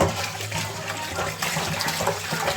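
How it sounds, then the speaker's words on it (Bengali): Fresh rui fish is washed in water, a continuous close splashing and rushing of water that stays loud throughout without pause. "ভালো করে ধুয়ে নেব।"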